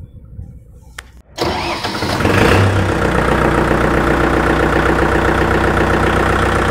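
A Kubota MU 4501 4x4 tractor engine cranks briefly and catches, then settles into a loud, steady idle close by, alone without talk.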